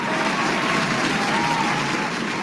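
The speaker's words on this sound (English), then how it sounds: "Let's give one more round of applause." Broad, even crowd applause from an audience of football fans at a live show, a continuous wash of clapping at steady level with a faint tone running through it.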